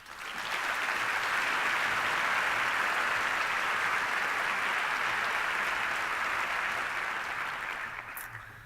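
An audience at a 2014 reading celebration event in Dallas/Fort Worth applauds to welcome speaker Gary Haugen, a dense, sustained round of clapping that swells quickly and fades toward the end.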